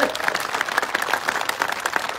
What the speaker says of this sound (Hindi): उनके लिए दोबारा तालियां बजाएं।